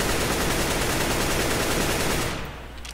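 Sustained automatic gunfire from a video game weapon, a dense, loud, unbroken burst of rapid shots lasting a few seconds before cutting off abruptly; no talking.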